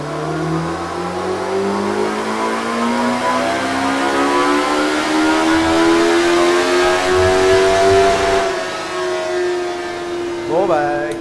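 A Kawasaki motorcycle engine winds up on a dyno in one long, sustained pull, its pitch climbing steadily and loudly for about eight seconds before cutting off, followed by a brief blip.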